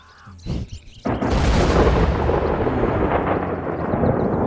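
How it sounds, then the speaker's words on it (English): Loud thunder rolls over water in the Red Dead Online video game, starting with a sudden crack after a brief quiet moment and then sustaining a heavy, booming rumble to the end. "Scary water thunder."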